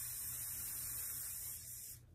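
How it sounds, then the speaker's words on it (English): Eyebrow spray hisses in a steady, faint spritz onto a spoolie for about two seconds, then stops abruptly, over a low background hum. "I'm gonna spray it kind of a lot on my eyebrows"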